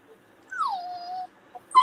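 A puppy's single drawn-out whimper, sliding down in pitch and then holding steady, with a short high yip right after it, close and fairly quiet against a silent room.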